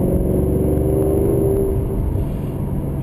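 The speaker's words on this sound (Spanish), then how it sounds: "lo que emite por los escapes traseros es pura melodía" A Maserati GranTurismo Sport's exhaust hums and growls at close range, a deep, hoarse, steady rumble with a brief rising whine before settling back down.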